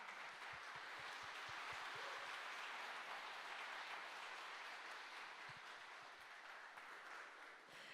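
Continuous applause from a large audience at a company's 50th anniversary ceremony, an even roar of many hands with a few sharper nearby claps standing out, held for several seconds.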